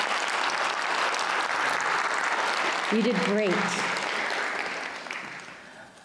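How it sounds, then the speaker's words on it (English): Audience applause at a talk on graphic novels and identity, a steady wash of clapping that fades away toward the end, with a voice briefly speaking over it. "can we have an extra round of applause for Izzy and Aiden?"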